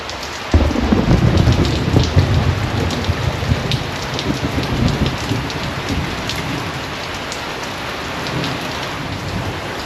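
Steady rain falls outdoors, with a louder burst of heavy drumming beginning in the first second and continuing as a dense, unbroken patter throughout; no voices are heard.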